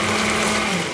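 A blender grinds soaked rice together with sesame seeds, a steady, loud motor whir with a constant hum that runs without a break for the whole moment, for Korean dried pumpkin namul.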